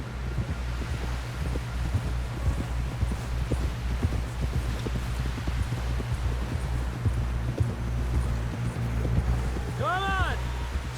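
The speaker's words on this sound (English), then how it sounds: "Someone help John down off this horse." Horse hooves clip-clop at a steady trotting rhythm in the Red Dead Redemption 2 video game, over a low wind rumble, with a short voice cry near the end.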